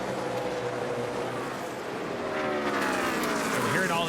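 NASCAR race cars are racing on track at the 2020 Drydene 311. A continuous engine roar drones on, and near the end a distinct engine note climbs in pitch as a car passes close by.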